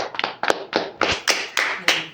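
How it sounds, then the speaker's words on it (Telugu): At a village prize ceremony for a milk-yield contest, about eight sharp, evenly spaced claps ring out close by, loud and distinct. "కమిటీ వారి చేతులు ఒకసారి గట్టిగా చప్పట్లు కొట్టాలి"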